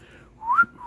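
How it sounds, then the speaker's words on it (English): A single person whistles a short rising tune that slides upward and holds a clear steady tone, close and fairly loud, with no talk. "Why can't I whistle?"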